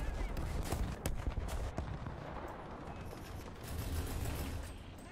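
Artillery fire in a tank video game: heavy booming shots and sharp cracks burst through a dense, constant roar of battle noise, with several loud hits scattered across the span.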